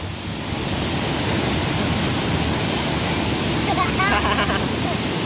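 A waterfall produces a steady, broadband rushing roar of falling water from start to finish, with a brief faint voice-like sound partway through.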